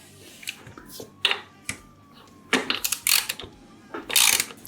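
A ratchet works the rear caliper bracket bolt on a Yamaha Warrior 1700 motorcycle, with close, sharp bursts of clicking at irregular intervals and a faint background hum.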